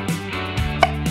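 A few sharp knife strikes on a cutting board as eggplant is cut into cubes, spaced irregularly, with a steady low hum in the background.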